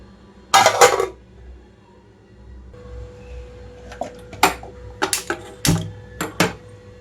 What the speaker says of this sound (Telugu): మూత పెట్టేసి స్టవ్ మీద పెట్టేస్తున్నాను